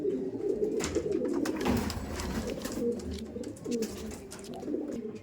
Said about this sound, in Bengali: মেল রুমের পিজন্সগুলো আপনার সামনে তুলে ধরি পিজন্সগুলো দেখুন